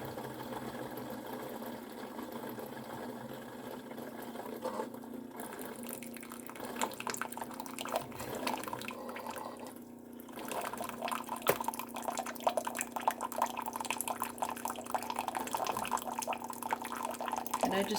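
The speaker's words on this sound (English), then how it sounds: "we'll get our boiling water." Boiling water streams from a countertop hot water dispenser into a measuring cup for hummingbird nectar, a steady liquid pour with a faint mechanical hum underneath, continuous and close for the whole stretch.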